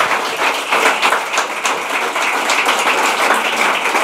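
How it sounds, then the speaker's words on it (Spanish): Audience applause at the close of a session at a food-sector event, a dense, steady wash of many hands clapping, loud and sustained throughout with no voices standing out. "Un aplauso para ellos."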